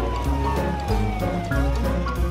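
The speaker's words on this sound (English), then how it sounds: "Now Morphle can see what a real fire truck can do." Cartoon fire truck siren from an animated children's show, a steady wailing tone with rising sweeps, loud and close over a busy music bed for about two seconds.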